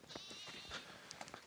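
Sheep bleat in a pasture in Portugal, several short wavering calls from a few animals at moderate distance, scattered over a quiet outdoor background.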